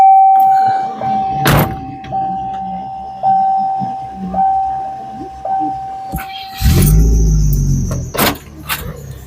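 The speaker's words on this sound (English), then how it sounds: "So please ignore the squeal of my car." A 2008 Chevrolet Impala with a rerouted serpentine belt squeals in a steady, high, thin whine for several seconds among scattered clunks, then heavy rumbling bursts take over near the end.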